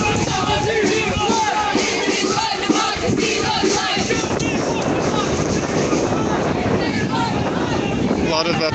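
A street protest crowd marches at night along Ontario with police nearby, a dense continuous roar of many voices shouting and chanting under gusting wind noise.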